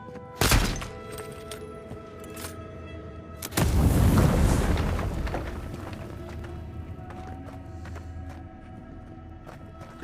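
A grenade goes off in the video game Avowed with a heavy, rumbling blast that fades slowly, followed by scattered thuds and faint clatter. A sharp impact comes a few seconds before it.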